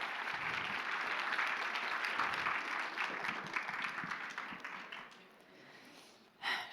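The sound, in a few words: audience applauding a cosplay performance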